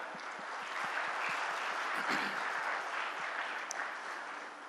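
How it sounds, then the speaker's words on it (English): A large audience at an industry talk claps together in a dense, steady wash of applause that holds evenly for several seconds, fairly distant, with no voices over it. "This definitely deserves a big clap."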